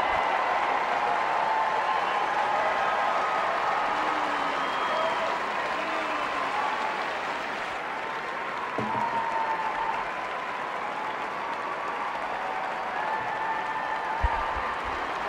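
A dog show audience at the Westminster Kennel Club applauds and cheers in a large hall, the steady roar of clapping and crowd noise running loud and continuous throughout.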